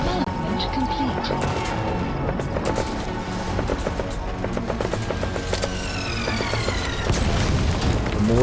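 Mortar fire in Metal Gear Solid V, a dense, continuous battle din of booms and bursts of shooting that runs steady and loud through the whole stretch, with game sounds layered on top.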